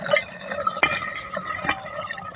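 Water gurgles and trickles as it drains down into a buried pipe opening in a flooded rice paddy, steady close liquid sounds with a few sharper splashes.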